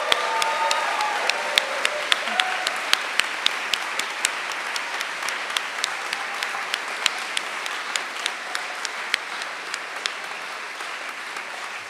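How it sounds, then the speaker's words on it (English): Sustained applause fills a large hall at the Geisel School of Medicine at Dartmouth white coat ceremony, a steady wash of many hands with a few sharper individual claps standing out near the front. "Can we give a rousing round of applause?"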